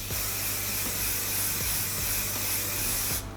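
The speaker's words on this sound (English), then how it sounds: "using our flexible hold hairspray again," A steady, continuous aerosol hiss of hairspray, close and loud, holding for about three seconds before cutting off abruptly.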